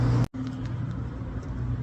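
A truck with a C12 Cat diesel idles in a low, steady rumble after a short cutout near the start, the engine note holding even and moderately close as it warms up at a farm during corn hauling.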